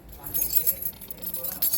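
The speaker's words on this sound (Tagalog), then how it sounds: "So, ito ang ating susi sa bahay." House keys jingle and clink in the hand in a continuous light metallic rattle close by, with a voice talking over them.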